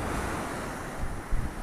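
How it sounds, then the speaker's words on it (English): Sea waves rolling in at Bray beach, a loud continuous wash of surf with wind buffeting the microphone and a brief swell near the end, no voices. "Oh, look at the waves here, they're coming in."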